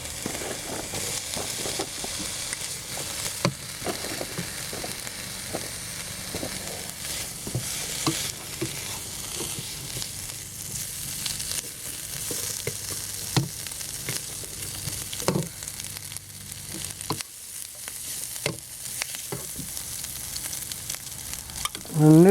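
Garlic and ginger sizzle and fry in a pan for a beef and cauliflower stir fry, a continuous crackling hiss broken by scraping and stirring clatter.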